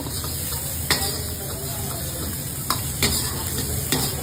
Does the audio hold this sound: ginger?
yes